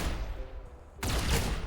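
Bolt pistol gunfire in the video game Rimworld, a short loud burst of rapid shots cutting in sharply after a low background hum.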